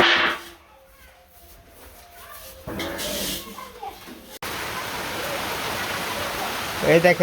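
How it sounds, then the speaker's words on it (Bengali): Steady broadband hiss of rain sets in partway through, continuing loud and even; quieter sounds and a voice come before it. "বৃষ্টি নামছে"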